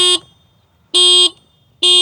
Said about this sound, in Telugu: మీరు ఒకసారి హారన్ సౌండ్ అయితే విన్నాం.